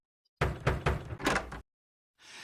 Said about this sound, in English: Oh, someone's at the door.